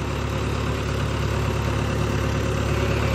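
A Holland 5630 tractor pulling a 17-tine plough, its engine a steady, even low drone throughout, close and loud, with no speech.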